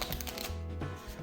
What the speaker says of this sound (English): I'm going to shuffle these 2 into each other.